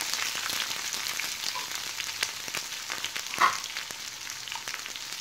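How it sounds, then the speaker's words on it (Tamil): Onions sautéing in a pan for perkangai (ridge gourd) chutney: a continuous soft hiss of frying with scattered light taps of a spoon and one brief louder clink near the middle. "நல்லா வதக்கிக்கலாம்."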